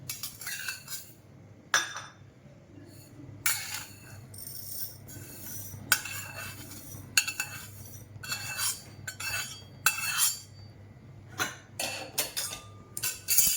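Metal utensils clink and scrape intermittently against a pan while roasted lentils and rice are scooped out to cool for homemade baby cereal, sharp close taps recurring every second or two with no talk.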